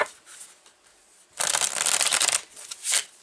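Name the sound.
shuffling a deck of cards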